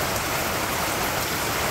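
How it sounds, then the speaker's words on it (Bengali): Light monsoon rain falls steadily on a village in Bangladesh, a dense, even patter and hiss of drops on surfaces, close and continuous, with no one talking. "এখন বৃষ্টি কম।"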